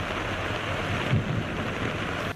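A thunderstorm with a heavy downpour floods streets in Antalya, making a steady, dense hiss of rain with a low rumble swelling briefly partway through. The sound is fairly soft and even, with no voices.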